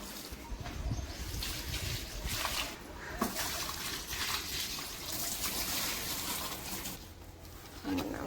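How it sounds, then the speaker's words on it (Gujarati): Water is poured into plant pots in an outdoor garden, trickling and splashing in several uneven bursts, with faint bird calls and a little quiet talk in the background. "ચાલો બધા કુંડા પાણી નાખી દઈએ"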